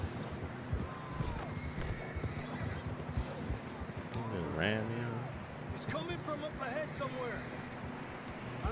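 Horses in the Red Dead Redemption 2 video game clip-clop and snort while riding through a mountain area, with a whinny in the middle, steady hoofbeats under a constant wind-like background.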